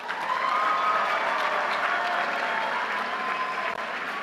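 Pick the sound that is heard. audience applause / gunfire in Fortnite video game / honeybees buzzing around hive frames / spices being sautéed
audience applause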